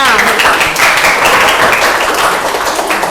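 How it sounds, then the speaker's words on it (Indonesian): A classroom of students claps for a presenting group during a mathematics teaching session, a loud, steady patter of many hands filling the room for about three seconds, with some voices mixed in. "tepuk tangan dulu dong untuk kelompok 6"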